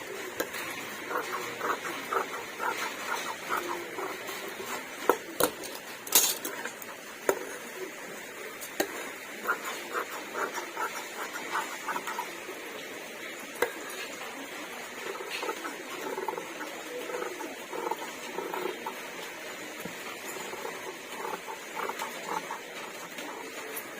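Scissors cut through the front piece of a blouse fabric in a long run of rapid, crisp snips, with faint rustling and occasional louder clicks between them; no one speaks.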